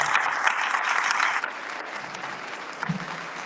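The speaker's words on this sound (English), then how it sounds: "Let's give him a well-deserved round of applause." An audience applauds at a South Florida athletic awards ceremony, a dense wash of clapping that holds steady, then thins and softens partway through as the ovation fades.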